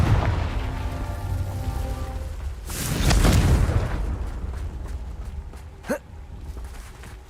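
Hogwarts Legacy game audio has a fiery Confringo spell ending in a deep, booming roar that swells and fades, then a brief sharp whoosh, over a steady ambient rumble.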